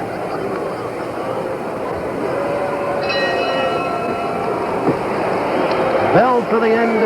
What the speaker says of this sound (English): Bell for the end of round 1.